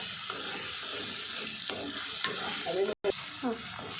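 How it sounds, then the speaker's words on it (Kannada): Tomatoes frying in a pan for pasta, a steady sizzle with scraping strokes of a spatula and a brief dropout near the end. "ಸೊ ಇವಾಗ ಟೊಮೊಟೊ ಹಾಕ್ತಾ ಇದ್ದೀವಿ. ಕಲರ್ ಚೇಂಜ್ ಆಗಿದೆ. ಅದು ನೋಡಿ ಗೈಸ್, ಫ್ರೈ ಆಗ್ತಾ ಇದೆ."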